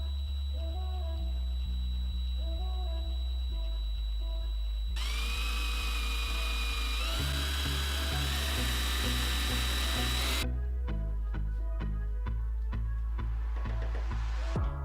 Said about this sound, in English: I don't want to drill it all the way through, so what I'm going to do is just drill it as close as possible the other side.